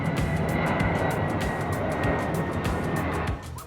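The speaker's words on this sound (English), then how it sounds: "Planes coming in to Honolulu International." Airliner roaring overhead on approach to Honolulu International, a loud, steady, broad engine rush that fades slightly near the end, with no talking.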